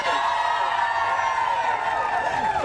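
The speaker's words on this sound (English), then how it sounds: "You can cheer for him." A studio audience on a morning talk show cheers and whoops steadily for the guest, a continuous bright roar of voices lasting a few seconds.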